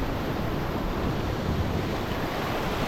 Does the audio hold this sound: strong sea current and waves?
yes